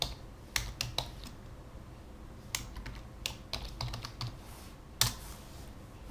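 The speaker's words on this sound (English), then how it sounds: "I click enter" Keys on a computer keyboard tapped in quick irregular bursts, ending with a firmer Enter press, close and clear in a quiet room.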